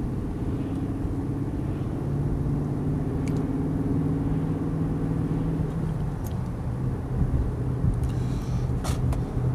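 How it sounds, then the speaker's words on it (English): A BMW M5 with a V8 engine and six-speed gearbox drives along with a steady, continuous engine drone and road rumble, heard from inside at a constant cruising pace with no talking. "And you can just listen to that V8 all day."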